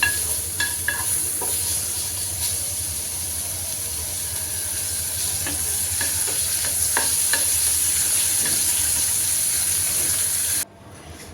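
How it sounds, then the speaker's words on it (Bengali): Washed dried fish, shutki, frying in hot oil, giving a loud, continuous sizzle with occasional stirring clinks close by. It cuts off abruptly near the end, and no one speaks. "কাঁকরোলটা নামিয়ে নিয়ে এখন শুটকিটাও ভেজে নিচ্ছি"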